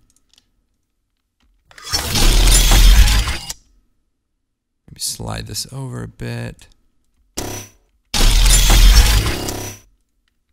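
Two sharp, bright metallic swishing bursts with a crackling, electric edge, separated by a stretch of close talk.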